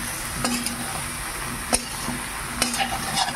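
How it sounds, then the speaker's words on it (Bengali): Jujubes being mixed with crushed black salt for a sour-sweet-spicy pickle, giving sparse, soft scrapes and a few sharper clicks spaced irregularly, close by and fairly quiet, with no voices. "এবার আমি দিয়ে দিচ্ছি কুলের মধ্যে, ভালো করে মিশিয়ে নেব।"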